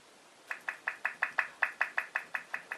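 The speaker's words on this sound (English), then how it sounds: "you could hear that beeping noise that some people think's annoying" A rapid series of about a dozen short, identical volume-adjustment beeps from a 2011 Apple MacBook Pro, evenly spaced and fairly quiet, with no talking.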